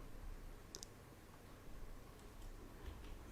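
A single computer mouse click while saving a file in Ansys software, faint and brief over a quiet room hiss, with a second softer click near the end.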